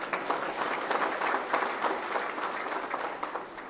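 Sustained audience applause at a political rally, a dense steady patter of many hands clapping at moderate distance with small swells, no talk over it.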